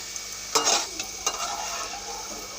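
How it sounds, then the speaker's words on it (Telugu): Peanuts frying in hot oil in a pan give a soft, continuous sizzle up close, broken by a few brighter scraping strokes as they are stirred. "ఫస్ట్ పల్లీలు వేగిపోయినాయండి"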